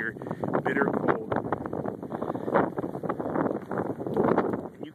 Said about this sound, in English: The snow, it is so windy out here, bitter cold.